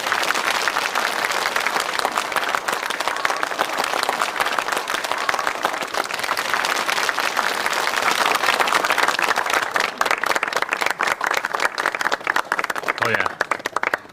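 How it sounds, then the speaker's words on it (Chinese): Villagers in a rural village give a provincial governor warm applause on his arrival. Sustained crowd clapping is close and loud, a steady dense patter that carries on for the whole stretch. "让我们用热烈的掌声欢迎曲省长的光临"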